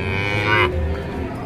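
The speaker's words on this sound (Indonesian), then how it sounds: "sapi-sapi untuk jagal." Cattle raised for slaughter moo loudly and close by in a holding pen, one sustained low bellow with a rising tone, set against lowing from other animals and background farm noise.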